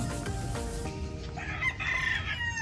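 Chickens in a backyard coop, with a rooster crowing loudly and nearby clucking from other fowl, close and clear with no talking.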